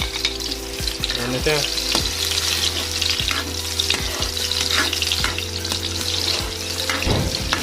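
Onions hit hot oil in a pan of octopus and fry with a dense, continuous sizzle, with periodic scraping knocks from stirring and a hum underneath. Someone speaks briefly in the middle.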